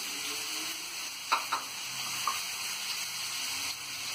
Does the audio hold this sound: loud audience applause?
no